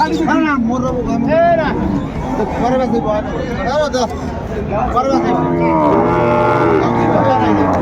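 Cattle low and moo repeatedly amid a busy Ambari livestock market, the calls rising over constant crowd chatter and bargaining voices, with several moos overlapping near and farther off.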